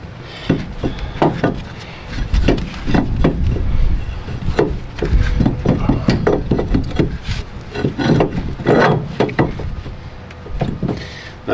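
Metal parts scrape, knock and rub in close, uneven bursts as a brake caliper and rotor are slid back onto the rear hub of a 2014–2018 Mazda 3 in a workshop, with no talking.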